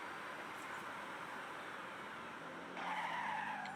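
A car in the Forza Horizon racing game accelerates with a steady, continuous roar of tyre skid and engine noise, growing louder and brighter near the end.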